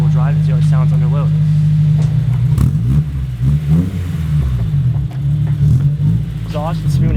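Honda S2000 with a full Spoon exhaust and Spoon headers, a deep throaty engine grumbling at idle and swelling through revs, with someone speaking over it throughout.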